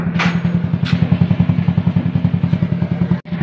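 A Motor Star Nicess 110 motorcycle engine idles steadily nearby to mix the oil inside, with a rapid, even low putter and a couple of faint clanks over it.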